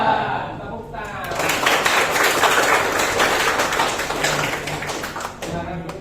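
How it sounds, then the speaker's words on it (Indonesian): An audience of vocational high school students claps together in a classroom gathering. The applause is steady and close, swelling for about four seconds before tapering off, with some talk around it. "Tepuk tangan."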